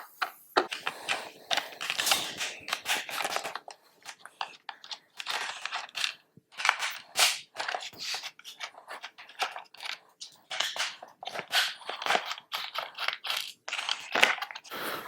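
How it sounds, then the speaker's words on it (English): Bolts holding the radio pod on a Harley-Davidson Electra Glide being loosened with a 3/16 Allen wrench: dense irregular metallic clicks, ratcheting taps and scraping handling noise, close and fairly loud, with no talk. "now we're going to take our perimeter bolts off and remove this pod. This is a 3/16 Allen."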